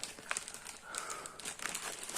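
Plastic parcel bag holding a Blackview Oscal C70 smartphone from AliExpress crinkles and rustles in close, irregular bursts during unboxing, soft and dry with no talking.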